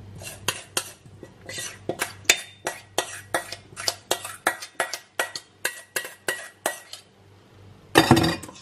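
A spoon stirs spinach, cottage cheese and chopped vegetables in a bowl for breakfast, making a quick rhythmic series of sharp clinks and scrapes against the bowl, about two per second, followed by a brief louder clatter at the end.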